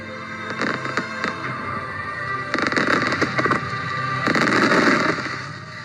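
A fireworks show bursts in clustered volleys of loud booms and dense crackling, with brief lulls between rapid-fire salvos, heard from a moderate distance.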